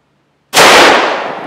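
A single loud, sharp gunshot from a .45 Super pistol firing a 200-grain hardcast lead round cracks out of silence up close, followed by a short decaying echo at an outdoor range.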